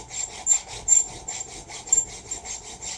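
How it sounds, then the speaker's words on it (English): A nearly worn-out chainsaw file rasps back and forth across the steel of a custom military-style knife, producing about a dozen steady, rhythmic scraping strokes, close and unaccompanied by talk. "Having to turn this file back and forth like that because it's about wore out."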